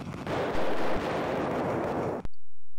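Heavy, continuous gunfire from a full motion video game, a loud sustained barrage of blasts that cuts off abruptly into near silence.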